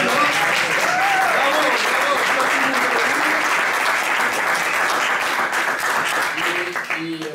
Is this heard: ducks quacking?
no